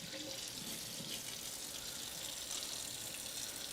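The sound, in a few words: rinsing a bowl under a running tap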